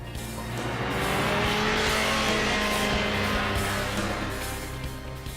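A BMW motorcycle speeds along the German Autobahn at around 135 miles per hour. A loud, steady roar of engine and rushing wind swells in the middle and eases slightly toward the end, with no voices.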